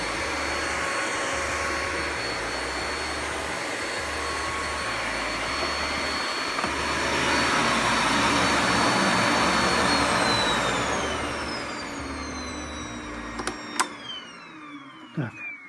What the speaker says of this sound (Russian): Так, тяга у него неплохая, я бы даже сказал бы отличная для такого пылесоса.